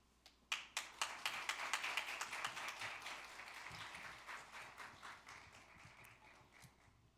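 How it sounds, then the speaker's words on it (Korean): A church congregation gives a pastor a welcoming round of applause, sharp claps building quickly then sustaining as a dense, even patter before gradually thinning out. "목사님 나왔을 적에 크게 환영의 박수 하도록 하겠습니다"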